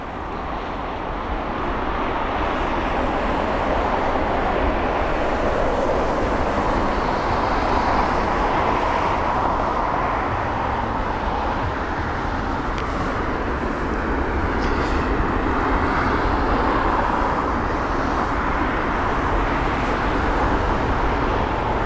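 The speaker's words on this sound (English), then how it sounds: "Smooth landing." An airliner landing at London Heathrow gives a loud, sustained jet roar that holds steady for about twenty seconds with no voices over it.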